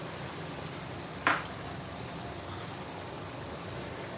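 Mango chilli chicken with ginger-garlic paste fries on full flame, a steady close sizzle with one brief sharp clink of a utensil, no voices.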